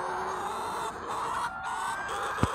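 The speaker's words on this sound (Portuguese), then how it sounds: "Tem galinha ali, ó, debaixo." Hens clucking softly in a steady, busy chatter on an egg farm, with a faint breezy outdoor background and one brief knock near the end.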